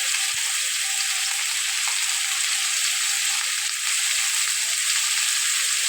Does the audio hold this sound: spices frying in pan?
yes